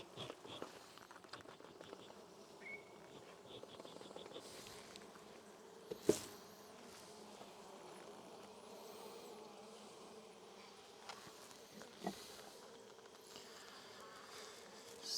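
Honey bees buzz steadily around a small hive colony being inspected by a beekeeper, a continuous close hum with occasional soft knocks and rustles and no talking.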